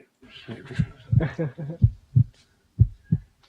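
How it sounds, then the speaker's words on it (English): A heartbeat sound effect in a hip hop song, heard as a run of deep thumping beats in pairs and spaced pulses, with a voice talking or rapping over them. "That's a heartbeat."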